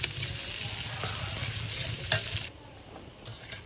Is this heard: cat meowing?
no